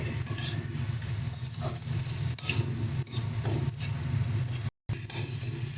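Chopped tomato stir-frying in a pan for a duck egg curry, a steady close sizzle with hiss and occasional scraping stirs, briefly cutting out near the end.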